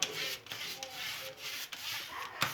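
A brush spreads Amway oven cleaning gel in a thin layer across the inside of an oven, making faint, continuous rubbing and scrubbing strokes with a few soft knocks.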